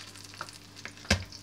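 Garlic cloves are smashed in a home kitchen while preparing a Korean-style sauce for fried flounder, giving a single sharp, close thud over quiet room noise.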